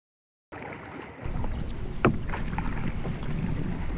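A canoe glides along a river on a first canoe trip, with soft paddle strokes and water splashes under steady wind noise, one sharper splash standing out midway.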